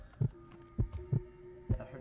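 Heartbeat effect in the horror game Soul at Stake: a steady run of heavy low thumps in close pairs, about five beats, with a faint steady hum running underneath.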